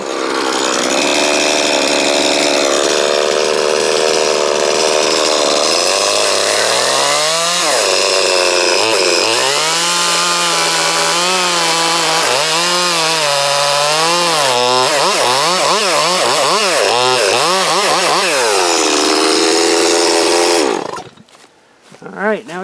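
A chainsaw cuts into a log at a tent campsite to shape a stool. The engine roars loud and close for about twenty seconds, its pitch rising and falling as the blade bites into the wood, then it cuts off abruptly.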